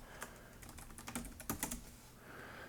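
Light, uneven typing on a computer keyboard, with a quick burst of clicking keystrokes in the middle, close by and fairly quiet.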